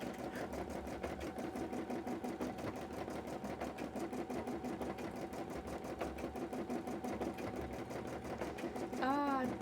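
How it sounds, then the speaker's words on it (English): A computerized embroidery machine stitches a design during a cosplay sewing session, its needle humming in a steady, rapid mechanical rhythm throughout, with people talking over it. "And then you just change the thread color when you want it to do a different color, and it will embroider things for you."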